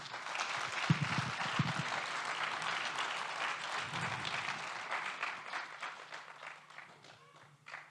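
A church congregation applauding, a dense burst of many hands clapping that fades gradually toward the end, with faint voices mixed in beneath.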